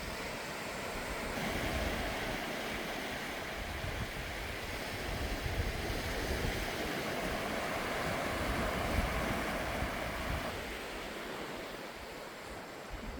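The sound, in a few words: waves on a beach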